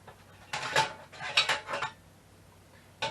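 A two-piece steaming rack for a CanCooker steamer pot is handled, giving a few short metallic clatters and clinks in quick bursts with brief pauses, then one last clank after a gap.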